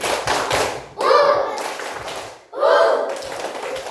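A school class does a rhythmic spirit clap during a lesson, with two bursts of sharp patterned claps between stretches of children's and a teacher's voices.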